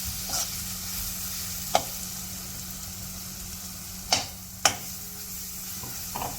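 Close-up frying in oil and butter in a pan, a steady soft sizzle with a low hum beneath and a few sharp clicks of a utensil against the pan.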